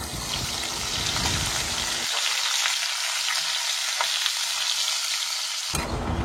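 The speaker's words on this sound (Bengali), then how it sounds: "এবার আলুগুলোকেও আমি লাল লাল করে তেলে ভেজে নিচ্ছি।" Potatoes sizzle and crackle steadily in hot oil, a dense, continuous frying hiss heard up close with no talking.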